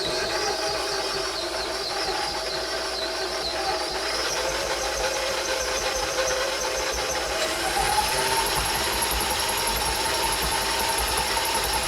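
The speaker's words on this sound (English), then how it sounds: "room temperature butter or softened butter to the mixer. And we're just going to put that on low to start, and we're going to cream it." A stand mixer runs on low creaming softened room-temperature butter, giving a steady motor hum and whir that continues evenly throughout, with a slight shift in pitch near the end.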